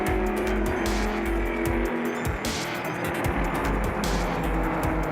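A Mustang and an Alfa Giulia race side by side on a circuit, engines roaring loudly with rising and falling revs and sharp bursts as they pass close by.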